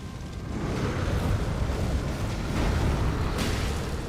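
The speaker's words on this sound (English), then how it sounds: "Did you just dodge every single explosion in that?" Explosions in the video game Elden Ring, a sustained loud rumbling blast with a deep boom that swells twice over several seconds, with no talk.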